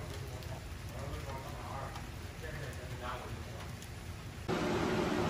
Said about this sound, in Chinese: 又下雨。